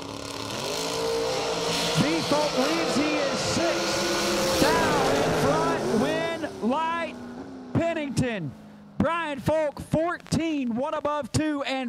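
Drag racing at the Million Dollar Race, a door car and a dragster roaring at high revs, engine notes sweeping up and down through gear changes, loud and close, with sharp bursts near the end.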